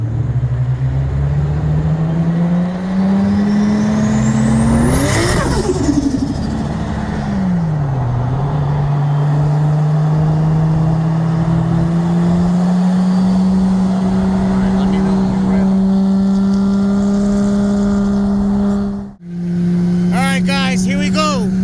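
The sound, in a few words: 1995 Toyota Supra and 2020 BMW M8 Competition racing from 60 mph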